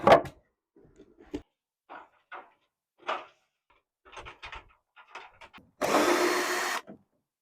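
A power drill backs screws out of a ceiling in a home renovation, with scattered knocks and handling clicks, then one loud whirring burst of about a second near the end, close and without talking.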